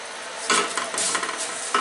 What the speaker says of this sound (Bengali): তাহলে পুরাপুরি পরোটা ভাজা হয়ে যাবে।